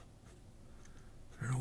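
A fountain pen nib writes across paper in faint, soft scratching strokes, and a voice briefly cuts in at the very end.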